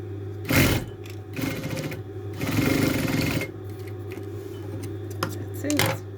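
A sewing machine top-stitches a Christmas stocking, with loud, close bursts of rapid stitching that start and stop over a steady low hum.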